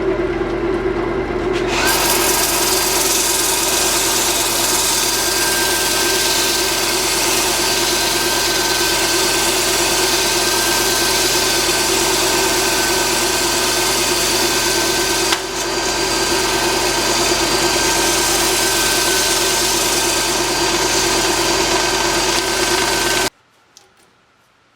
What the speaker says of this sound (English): Okay, I'm ready to sand. Yeah, I'll start out with 80 grit.